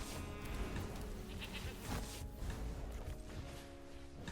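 Goat bleating from a card video game, heard as repeated wavering bleats over a busy, continuous background of game sounds and music.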